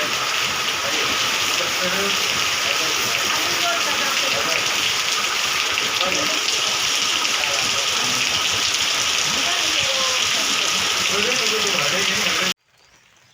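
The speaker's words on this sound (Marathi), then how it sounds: "जोरदार पाऊस चालू आहे" Heavy rain pours steadily in a dense, continuous hiss, close and loud, until it cuts off abruptly near the end.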